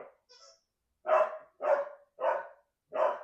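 A house dog barks four times in a quick, evenly spaced run, each bark sharp and close, after a faint yip at the start.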